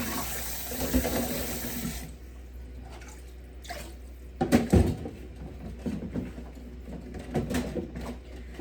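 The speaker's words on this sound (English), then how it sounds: "Trying to wash as quickly as I can, but still making sure everything is clean." Running tap water splashing into a kitchen sink while dishes and cups are washed, with occasional clinks and knocks of crockery; a steady faucet stream that stops after about two seconds, followed by scattered handling sounds.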